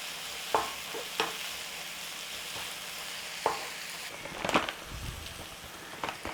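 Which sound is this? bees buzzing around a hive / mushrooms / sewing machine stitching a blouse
mushrooms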